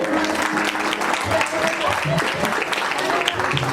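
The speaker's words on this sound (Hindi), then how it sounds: "धन्यवाद को आप तालियों में व्यक्त कीजिए" An audience at an International Women's Day event applauds in thanks, a dense, steady clapping that holds at full strength throughout.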